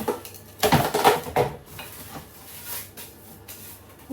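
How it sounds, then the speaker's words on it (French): Dishes and cutlery clatter close by in a home kitchen sink, with a dense burst of clinks and knocks early on, then lighter scattered clinks and faint running water, no talk. "je vais faire un petit coup le peu de vaisselle que j'ai à faire"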